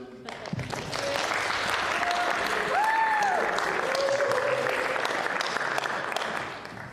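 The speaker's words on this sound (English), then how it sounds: "I'd like to give a round of applause to our tech man Andy here" Audience applause at a film Q&A event, steady clapping from a seated crowd lasting several seconds, with faint tonal sounds and murmurs mixed underneath.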